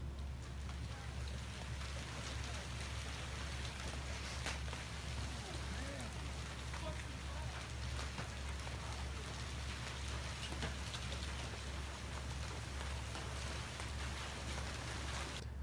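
A storm of hail pummels parked cars in a parking lot, making a dense, continuous roar of impacts with a steady low rumble underneath.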